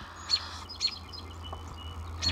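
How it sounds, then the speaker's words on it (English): Bird chirps in an abandoned Fire Mountain buffet in Beaver Falls, PA: three sharp high calls spaced across the moment, fairly close, over a low room hum with no talking. "There's a bird trying to get me."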